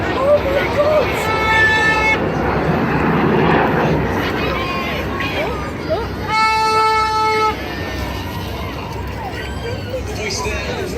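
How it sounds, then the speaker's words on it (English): Red Arrows display jets roar overhead during the shotgun manoeuvre at a Weymouth seaside air show, a loud sustained engine rush with horn-like tones, under a crowd's chatter and excited voices. "Keep your eye on those two jets to the right. This is the shotgun."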